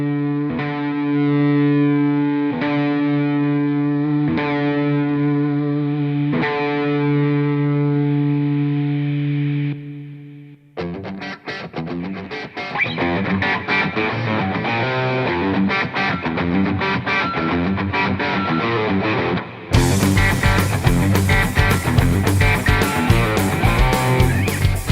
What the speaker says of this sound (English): Turn the distortion up a bit on this one